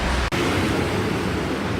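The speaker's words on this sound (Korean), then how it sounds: "지금 바람 소리 들리세요?" Wind blowing outdoors, a steady, loud roar buffeting the microphone with no other clear sounds.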